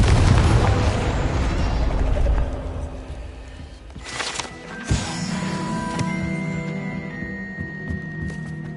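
Confringo fire curse blasting in Hogwarts Legacy: a loud, close explosive burst with a booming impact, then a ringing, crackling tail that fades over several seconds.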